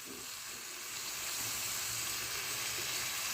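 Beetroot curry sizzling in a pan while being stirred, a steady bright hiss of frying that swells slightly and holds throughout, close and continuous with no talking.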